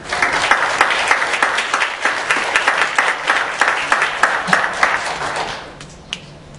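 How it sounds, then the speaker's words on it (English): An audience at an engineering society's general body meeting claps hard for about five seconds in a dense, even burst, then the applause thins and fades, leaving a few last scattered claps. "Let's give them a round of applause."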